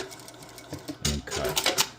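Sewing machine stitching a back tack on a modern sukajan jacket, a short burst of whirring stitches followed by a louder, faster run of rapid mechanical stitching close by.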